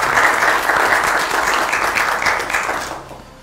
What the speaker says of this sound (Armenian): ծափահարենք Անին